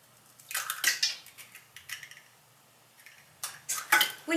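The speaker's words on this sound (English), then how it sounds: "First, beat the eggs." Four eggs are beaten by hand with a whisk or fork against a bowl for a chocolate cake, giving quick clattering metallic strokes in bursts with short pauses, close and fairly crisp.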